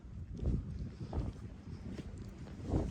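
Gusty wind buffets the microphone on a mountain during a snowstorm, swelling in low rumbling surges every second or so, loud and close.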